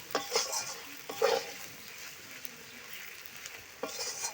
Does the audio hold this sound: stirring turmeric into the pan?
yes